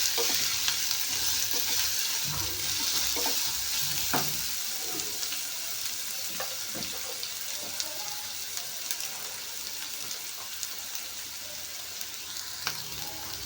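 Garlic sizzles in hot oil in a pan as okra curry is started, a steady, close frying hiss with occasional stirring scrapes and clinks throughout.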